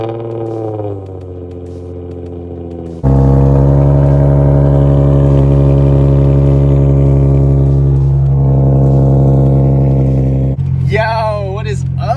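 An Infiniti G35's engine cold-starts with a brief crank, then settles into a loud, steady high idle held close by. A voice cuts in at the very end.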